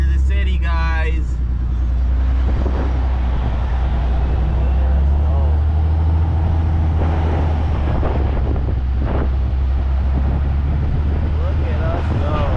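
Dodge Dually 3500 truck driving through city streets, a loud constant low engine and road rumble with heavy wind buffeting on the microphone, voices talking over it throughout.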